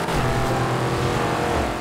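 A Lamborghini Countach engine in Forza Horizon 2, a steady, close, loud drone of a car under way, heard alone for a couple of seconds.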